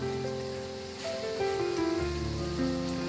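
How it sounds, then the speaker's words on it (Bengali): Mughlai paratha frying in hot white oil on a tawa, giving a steady crackling sizzle beneath sustained background music. "এবার এই মোগলাইটা ভেজে নেব।"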